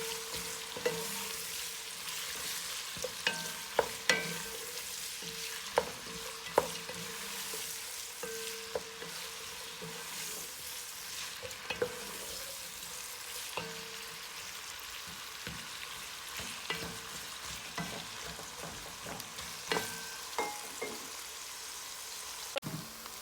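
Onion and okra cook with chicken in a pan over a medium flame for bindi chicken masala, sizzling softly and steadily, with occasional light clicks and taps throughout.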